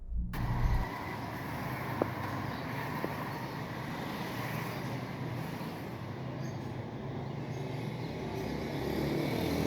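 A car drives through the streets of Karachi, heard from inside as a steady low road and engine rumble that holds almost unchanged throughout, with no speech.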